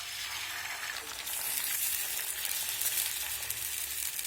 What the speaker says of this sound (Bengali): ডিমটাকে আমি ঝুরি ঝুরি করে ভেজে নিয়েছি